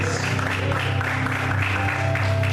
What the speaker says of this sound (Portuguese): você pode aplaudir o Senhor e adorar a Deus por isso